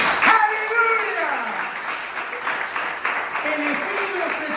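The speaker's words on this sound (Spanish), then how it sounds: "¿Le puede dar un aplauso a Jesucristo?" Church congregation applauding for Jesus Christ, a steady spread of clapping heard beneath a preacher's voice, which rises over it at the start and again near the end.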